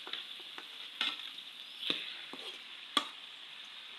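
Meat that has been stored in a fridge fries in a pan with a soft, steady sizzle, broken by a few sharp scrapes and clinks as it is stirred.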